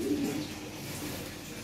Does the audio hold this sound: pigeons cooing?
yes